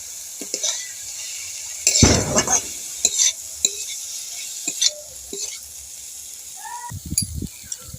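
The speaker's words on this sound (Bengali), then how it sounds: "মশলাটা আমার ভাজা হয়ে গেছে, এবার আমি চিড়েগুলো দিয়ে দেব।" Flattened rice tossed into fried spices in a pan, with intermittent scraping and clanking stirs against the metal and a light sizzle between, close up, with a brief bit of voice.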